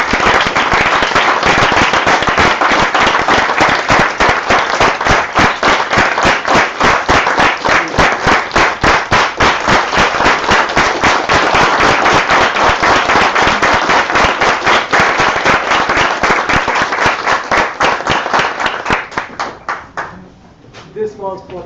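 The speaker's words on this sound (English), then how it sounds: "can I request everybody to stand up and clap" An audience stands and claps in sustained, dense applause, loud and near, with rapid rhythmic hand claps that carry on steadily before fading out near the end.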